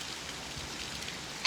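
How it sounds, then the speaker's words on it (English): Steady rain pours during the rainy season in New England, a constant hiss of drops on surfaces, close and even, ending in a sudden louder burst. "You're making a lot of noise, Rain."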